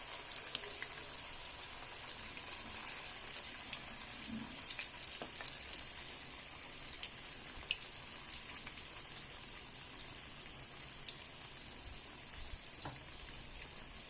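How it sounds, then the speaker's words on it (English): Sabudana vadas fry in a pan of hot oil with a faint, steady crackling sizzle and scattered tiny pops, quiet and continuous with no voices. "These vadas have to get nicely fried on one side and only then flip them over."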